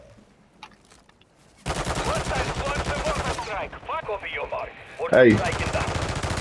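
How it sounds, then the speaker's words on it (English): Rapid video-game gunfire from a battle royale trios match crackles in dense bursts after a quiet start, loud and continuous, with a player's brief shout partway through. "you see him shooting at me?"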